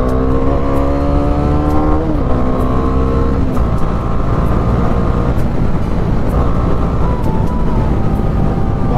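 A Bajaj Dominar 400 BS6 motorcycle accelerates, its exhaust note rising in pitch, dropping at gear shifts, then climbing again. The loud, steady engine roar stays close throughout.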